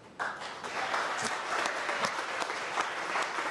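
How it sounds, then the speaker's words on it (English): Audience claps at a state of the cities address in Hazel Park, a crisp burst of applause starting abruptly and continuing for several seconds, with individual sharp hand claps standing out from the crowd. "Let's have a round of applause"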